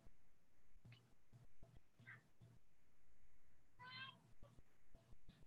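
A cat meows for food in a quiet indoor room, a few short, distinct meows spread across the clip, one louder and longer near the middle, amid soft movement noises.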